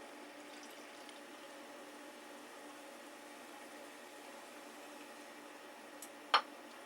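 Samuel Adams Boston Lager poured from the bottle into a glass, a quiet steady hiss of liquid and foam that runs throughout, with one sharp short clink near the end.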